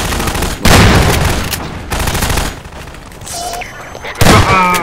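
Gunfire in the video game Half-Life 2: loud bursts of shots and impacts in several clusters, with a quieter stretch in the middle and a voice briefly heard among them.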